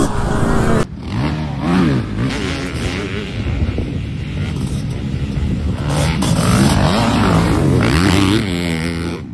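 500cc CR motocross motorcycle ridden over rutted terrain, its engine revving up and down loudly and close, with wind buffeting the microphone.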